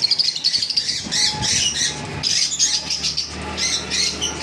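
Lovebirds, including blue mask birds, chatter and squawk in a dense flock, with rapid shrill chirps in repeated bursts and occasional wing flutters, fairly close and with no talk.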